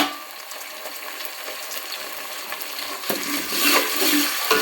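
Three chopped tomatoes frying in hot oil in a pan for Telangana-style uggani, a continuous soft sizzle with occasional stirring scrapes, growing louder and busier toward the end.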